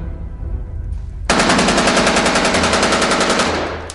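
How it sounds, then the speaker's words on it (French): Sustained automatic weapons fire from the war in Syria, a loud, dense rattle of rapid shots starting abruptly and continuing without pause, over a low rumbling background. "le bruit des armes automatiques et des explosions"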